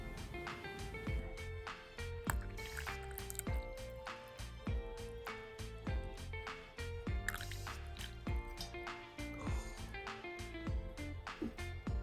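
Hot water pours over dried dandelion flowers to brew tea, a soft trickling and dripping with small splashes repeating at irregular intervals, faint and close by, with no talk over it.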